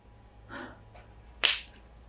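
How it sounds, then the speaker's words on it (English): A person gives one sharp hand clap close by in a quiet room. It comes after a faint rustle, with a brief pause around it. "I'm going to clap my hands because then I see the audio waveform."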